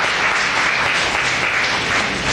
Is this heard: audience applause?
yes